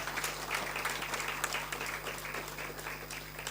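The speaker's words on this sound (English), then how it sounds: "We can give him another round of applause" Steady, moderately distant applause fills the hall at an ANC KwaZulu-Natal engagement with business leaders, continuous clapping without a break over a faint electrical hum.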